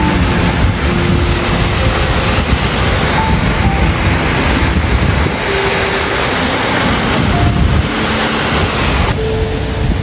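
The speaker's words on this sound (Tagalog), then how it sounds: "so ito pala ang falls. Yan ang Crescent Falls." Crescent Falls, a waterfall near Clearwater, Alberta, heard as a loud, constant roar of rushing water filling the whole scene, with wind buffeting the microphone.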